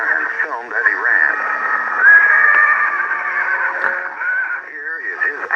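A horse rears and gives a long, loud whinny that rises and wavers for several seconds, carried over a narrated, radio-like soundtrack.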